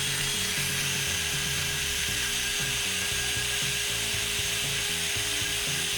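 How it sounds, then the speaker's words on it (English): A drill-mounted wire brush scrubs loudly against a 2016 Ford Edge rear brake part, the drill whirring continuously in a harsh, steady grinding rasp from start to finish. "For that, I have a wire brush and a drill"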